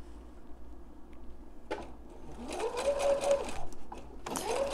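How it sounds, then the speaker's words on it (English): Sewing machine top stitching along the folded edge of a fabric mask pocket piece, running in two bursts, a longer steady run and then a second start, moderately close over low room hum. "I'm going to top stitch the folded edge."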